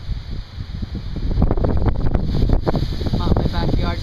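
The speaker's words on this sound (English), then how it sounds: "My backyard's a nice breezy day today." A breezy day in a backyard, with wind gusting and buffeting hard against a nearby microphone, giving a loud, continuous, rumbling roar.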